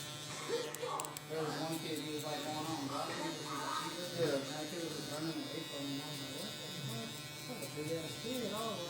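Stylecraft Instinct hair clipper buzzing steadily up close while cutting hair clipper-over-comb during a fade, with faint talk running under the continuous electric hum.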